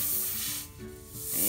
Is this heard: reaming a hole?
yes